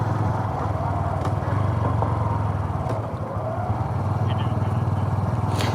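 Honda Super Cub motorcycles riding on a road trip through the Ozarks produce a steady, close engine drone with a low buzzing pulse that holds constant throughout.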